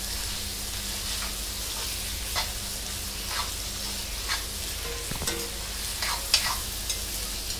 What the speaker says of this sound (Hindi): तो 2-3 सेकंड तक हम लोग पकाएंगे कैप्सिकम को भी ऑनियन के साथ।